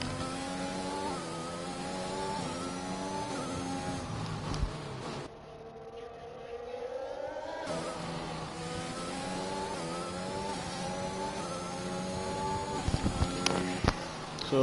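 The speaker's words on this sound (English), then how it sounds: "We'll just sit on board with this Williams and watch the first flying lap of the evening" A Williams Formula 1 car on a flying lap in a racing video game. The onboard engine whines steadily and high, rising and falling through gear changes, with a short dip where the note drops away before climbing again.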